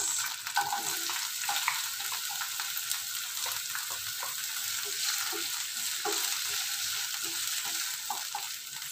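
Onions sizzling in hot oil in a pan for pininyahang manok, a loud, continuous close-up fry with light stirring clicks and no talking.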